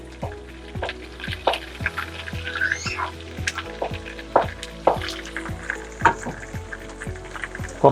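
Homemade chilli sauce frying in hot oil for chilli chicken, a close crackling sizzle with repeated rhythmic stirring scrapes against the pan.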